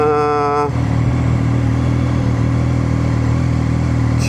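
Zontes 703F motorcycle engine accelerating hard, loud and close, with a rising whine at the start giving way to a steady, powerful roar that continues to the end.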